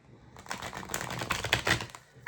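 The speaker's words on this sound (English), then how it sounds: "Give me one more shuffle." Playing cards shuffled during a tarot or oracle reading, a dense run of riffling, papery flicks close to the microphone lasting about two seconds, with no talk over it.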